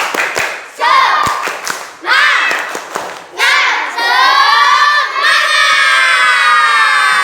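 A classroom of children performs a rhythmic clapping chant, shouting together in loud bursts between sharp hand claps, with a teacher leading; sustained cheering voices fill the last few seconds.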